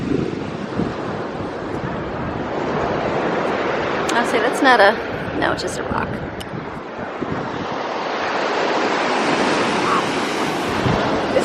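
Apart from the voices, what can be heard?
ocean waves breaking on a Florida beach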